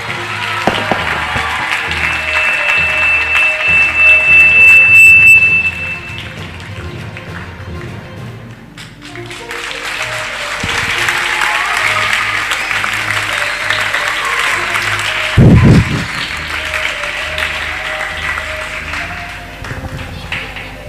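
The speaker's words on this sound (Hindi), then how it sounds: "सबसे पहले जोरदार ताली" A school event audience at CBSE Competitive School in Mohania claps loudly for a student, with one strong burst of applause followed after a brief lull by a second long, steady round of clapping.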